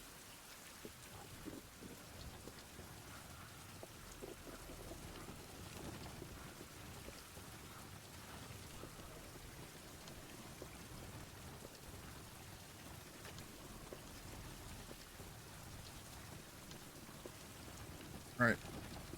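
Rain falling in the survival video game Survival: Fountain of Youth, a steady faint hiss of rainfall with a soft low rumble underneath, continuous throughout.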